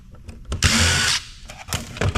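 Power screwdriver backing screws out of a rusted old Apple computer casing: one loud whirring burst of about half a second, framed by short clicks and knocks of handling.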